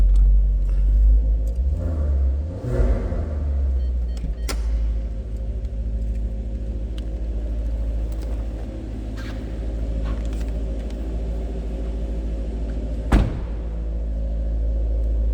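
A 2016 Maserati GranTurismo Sport Convertible's 4.7-liter V8 idles with a deep, steady rumble through the stock exhaust, with a brief sharp rev or knock partway through; no one speaks.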